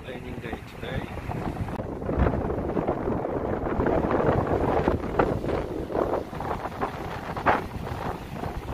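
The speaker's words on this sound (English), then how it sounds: "very windy and raining day today" Strong wind rushes and buffets the microphone on a rainy day in Brisbane, a steady broadband roar with louder gusts throughout.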